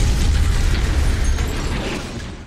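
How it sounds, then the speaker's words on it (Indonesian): A car bomb explodes in an action film, a loud, sustained blast with a deep rumble that fades slightly over a couple of seconds. "Romeo menekan bom yang akan meledak dalam beberapa detik lagi"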